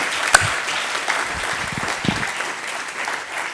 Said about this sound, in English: let's give them a big round of applause for their service